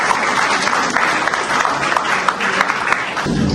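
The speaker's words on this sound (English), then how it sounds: "So please give a big round of applause." Audience applause at a National Science Day school event, a dense, steady burst of clapping from a seated crowd that runs the full length and swells slightly near the end.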